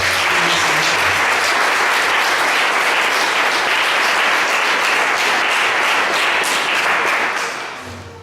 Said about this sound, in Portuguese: Se você crê que o Senhor vai falar com você nesta noite, aplauda bem forte.